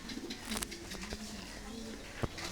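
A pigeon coos softly and close by, a few low throaty notes over faint background rustling and handling noise.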